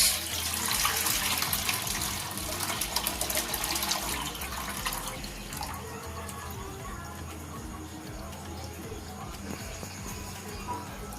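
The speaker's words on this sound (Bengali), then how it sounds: "এই দুধটা কড়ার মধ্যে দিয়ে দিচ্ছি" Milk, a full kilo of Mother Dairy milk, pours steadily into a wok for milk cake, a continuous liquid splashing and gurgling that runs the whole time, strongest at first and easing slightly toward the end.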